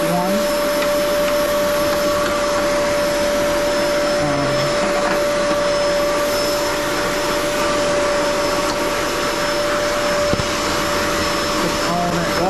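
A vacuum cleaner runs loud and steady, close by, sucking up dust from an Airstar 22 air compressor, its whine holding a constant pitch with slight shifts as the nozzle moves.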